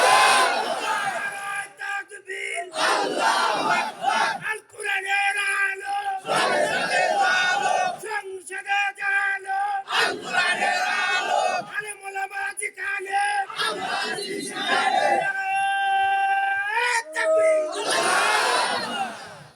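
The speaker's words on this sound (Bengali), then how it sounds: "দেন একটা তাকবীর দেন" A large crowd at an Islamic sermon shouts the takbir, Allahu Akbar, in loud, repeated massed bursts separated by short pauses, close and forceful.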